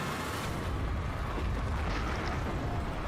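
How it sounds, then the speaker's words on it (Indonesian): A plane crashes into a ministry of health building and explodes, a sustained loud roaring rumble of blast and debris filling the whole stretch without pause. "Ada pesawat muncul tiba-tiba dan menabrak gedung Kementerian Kesehatan. Sato pun muncul tiba-tiba dari ledakan itu"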